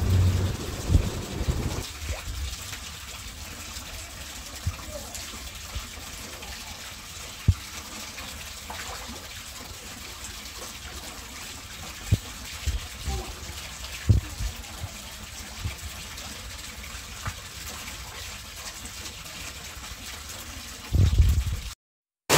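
Tap water gushes in a steady, continuous stream while someone bathes under it in a village on a hot morning, a close, unbroken wash of running water with a few small splashes and knocks.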